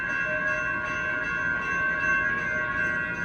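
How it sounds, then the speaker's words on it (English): A Blue Line light rail train leaves a station at Mall of America, its steady rumble and tonal hum holding at moderate distance for several seconds, with no talking. "I'll wait for this Blue Line train to leave."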